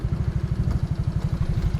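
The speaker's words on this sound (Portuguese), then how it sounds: "Mas eu vou estacionar a moto aqui," Motorcycle engine idling while the rider pauses before parking on a street in Encarnación, a steady low, lumpy pulsing putter close by, with no talk over it.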